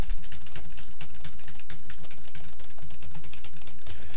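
Computer keyboard typing as commentary is entered into a document, a steady close-up stream of rapid key clicks with no pauses, loud and alone.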